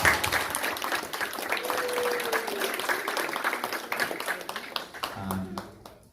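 A hackathon audience applauds an award at Hacker Dojo, a full burst of clapping with voices mixed in that carries for several seconds before tapering off.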